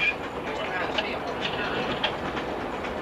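An Atlanta & Saint Andrews Bay Railway train runs along a track curve, a moderate steady rumble with soft clickety-clack and faint wheel noise, while people talk over it.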